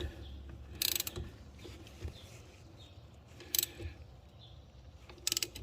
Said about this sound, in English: For now, we're just gonna snug her up. Use the ratchet.